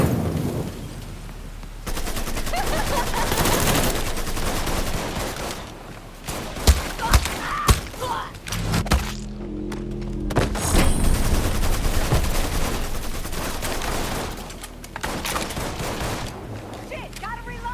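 Rapid gunfire bursts in the video game Mafia III, with dense volleys of shots and sharp individual cracks, a short lull partway through, and in-game voices shouting between the shooting.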